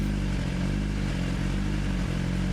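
Many motorcycles pass along a busy roadside hangout area on a Friday night, a loud continuous low engine rumble and drone filling the whole stretch without pauses, with no talking.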